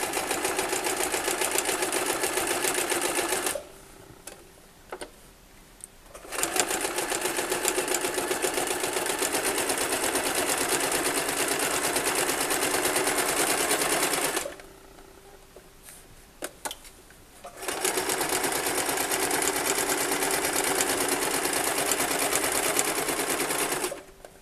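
A sewing machine stitching fabric around a corner while sewing a storage pouch, running in fast steady bursts with two short pauses where the needle stops, close and clear.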